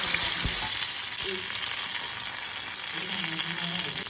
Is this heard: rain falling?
no